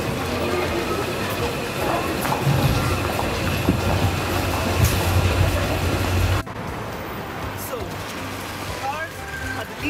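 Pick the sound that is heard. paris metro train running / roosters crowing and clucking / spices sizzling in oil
paris metro train running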